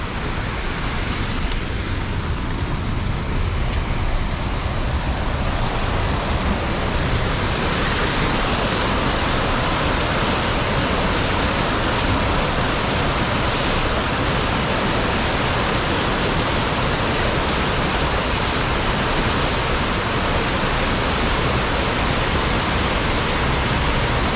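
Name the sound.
tidal water rushing along the shore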